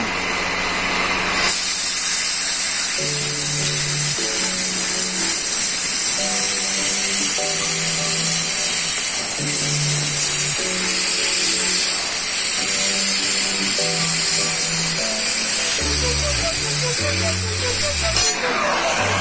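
Oxy-acetylene torch cutting steel plate with pipe, heard as a loud, continuous roaring hiss that runs almost throughout under steady background music.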